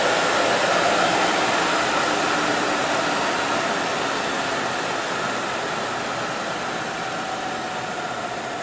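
Electric motor of a Jeep CJ7 EV conversion spinning a freshly balanced flywheel and clutch, a smooth, steady broadband whir that slowly fades as the speed winds down, with no talking.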